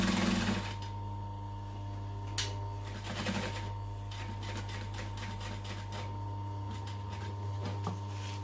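A sewing machine stitches a duffel bag seam, short bursts of rapid mechanical clatter starting and stopping over a steady low motor hum, close and fairly quiet, with no talking.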